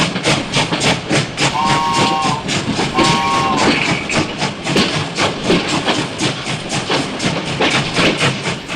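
A steam train chuffs in fast, rhythmic bursts with hissing steam, while a shrill two-tone steam whistle sounds twice near the start. The sound is loud and close and plays with no voices over it.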